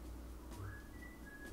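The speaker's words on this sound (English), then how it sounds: "I don't know if you can hear that guy whistling in the background." A man whistles faintly in the background, one thin rising note that levels off and holds for about a second, quiet under low room noise.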